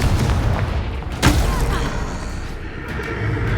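A Confringo fire spell explodes in the Hogwarts Legacy video game, a loud booming blast over a dense, rumbling game soundscape with one sharp crack standing out near the middle.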